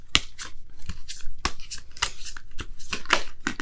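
A deck of romance angels oracle cards being shuffled by hand, crisp riffling and flicking bursts in an irregular rhythm, close and fairly loud, with no speech.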